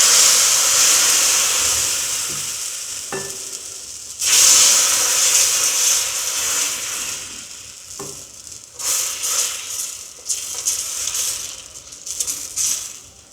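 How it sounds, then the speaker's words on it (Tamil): Dosa batter hits a hot griddle and sizzles steadily for over ten seconds, a bright continuous frying hiss with a few soft clicks and scrapes, loud and close, with no talking. "அந்த தோசை மாவை ஊற்றுறேன்"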